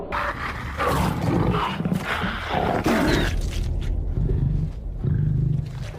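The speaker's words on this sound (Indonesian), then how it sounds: "Sumber suara itu berasal dari seekor harimau yang sedang kelaparan." A hungry tiger roars loudly and repeatedly, deep rumbling roars layered with growls that fill the scene close up, with rough, thick bursts that swell and fade over several seconds.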